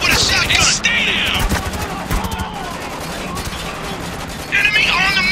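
Rapid bursts of automatic gunfire and shotgun blasts in the war shooter Spec Ops: The Line, dense and loud throughout, with shouted voices between the shots and a high whining tone at the start and end.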